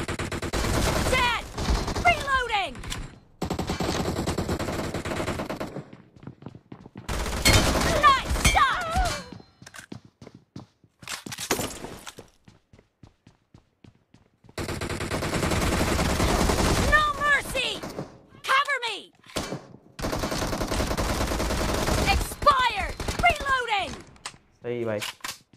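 Rapid bursts of gunfire from the battle royale video game BGMI / PUBG, loud and close, with repeated volleys broken by silent gaps and a voice talking over parts of the action.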